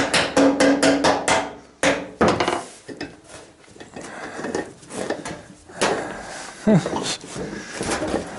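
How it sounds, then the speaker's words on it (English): A small hammer taps metal in a quick run of sharp strikes, then scattered lighter knocks and clatter follow, close up and fairly loud. "Need my little hammer. Oh, making little dents, not that."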